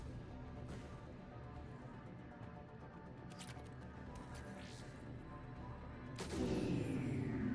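Krogan relic cannon fired in a sci-fi video game, a few sharp blasts cutting through a constant low hum, with a heavier booming surge near the end.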